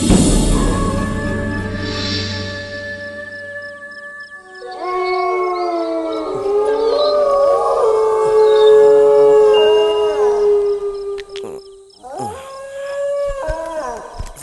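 A dog howls at night in a horror film, long wavering howls that rise and fall across several seconds, loud and close, joined by overlapping howls and a final shorter cry after a brief pause.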